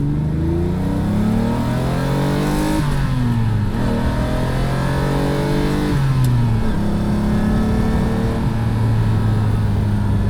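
A Lamborghini Countach engine revs hard and shifts up through several gears, the pitch climbing then dropping at each change, loud and close throughout.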